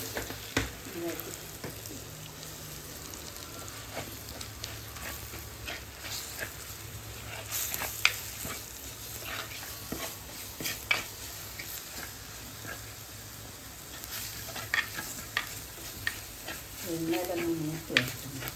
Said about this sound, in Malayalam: എണ്ണയിലൊന്ന് മൂത്ത് വെക്കണം.